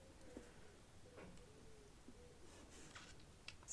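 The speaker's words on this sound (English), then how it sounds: "I don't know if you can hear those pigeons outside." Pigeons coo softly outdoors, heard faintly and at a distance through a window as a few low, rounded calls over quiet room tone.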